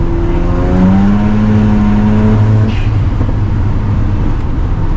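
A Mazda FD RX-7 rotary engine revs hard toward high RPM and bounces off fuel cut, a loud, close, steady engine roar with rising harmonic tones and stuttering limiter, no talking over it.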